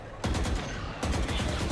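Gunfire in a tactical shooter video game as a shot punches through a wall for a kill: two loud, close bursts of rapid shots, the second starting about a second after the first.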